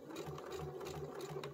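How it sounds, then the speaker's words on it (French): A sewing machine runs at its slowest speed, stitching fabric with a steady, even mechanical whir and soft rhythmic needle thumps, close and fairly quiet, no voices. "j'ai mis ma vitesse au plus lent et je viens coudre"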